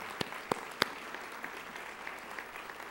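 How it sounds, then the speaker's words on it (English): An audience at a roast event gives fairly soft, scattered applause, with a few sharper, nearer claps standing out at the start over a low, steady patter. "that's a round of applause as well for all those hardworking people"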